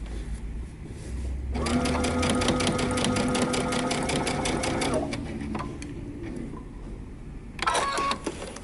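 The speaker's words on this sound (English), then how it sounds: "you're going to simply sew right off of your fabric" A sewing machine stitches at a fast steady rattle for a few seconds as it runs off the end of the dress fabric, then stops, followed by small handling clicks.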